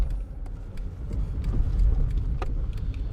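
A 1999 Ford Fiesta that stalls when cold idles and creeps into a shed, its low engine rumble steady and close with a few faint clicks and knocks on top.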